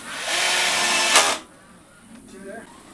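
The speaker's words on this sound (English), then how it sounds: "even the square drive bit will jump up out of the square sometime on me" A power drill on an old cordless-style tool drives square drive screws while building a cart, with a loud steady whirring burst of about a second that stops abruptly, followed by quieter handling noise.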